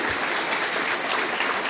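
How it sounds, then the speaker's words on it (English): Dense audience applause at a Solent Summit panel session, a loud, steady wash of clapping from a full room that stays even for nearly two seconds. "A round of applause for those answers from our panel."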